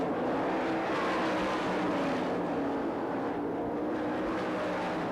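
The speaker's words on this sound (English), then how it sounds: "Danny Wood works the high line of the speedway" Sprint cars race at the 1997 Knoxville Nationals speedway, their engines making a dense, continuous roar that stays loud and steady throughout with no voices over it.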